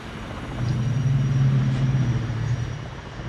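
A Halo Pelican dropship hovers in Microsoft Flight Simulator 2020, giving off a steady low engine rumble and drone that swells slightly and holds without talk.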